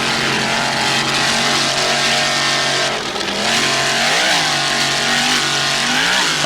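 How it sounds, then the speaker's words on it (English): A racing powerboat with a single 640-horsepower Mercury engine screams loud and close at the Key West World Championships, its harmonic whine rising and falling in pitch as it revs. "Archer Marine, powered by one 640-horsepower Mercury engine."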